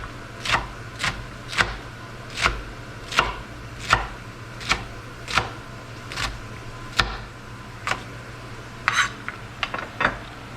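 A knife chops food into strips on a cutting board for a Burmese tea leaf salad. The blade strikes about a dozen crisp, evenly spaced chops, close and clear, with a quicker cluster of cuts near the end.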